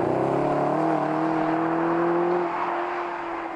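A 2014 Mercedes-Benz SLS AMG engine holds a steady, loud roar with a sustained low drone that eases slightly toward the end, with no talking over it.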